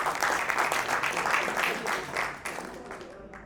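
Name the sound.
audience round of applause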